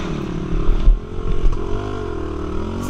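A Pony Jr 420 dirt bike rides through mud puddles during a muddy trail race, its engine droning steadily close by with wavering pitch and a few splashy thumps, without speech.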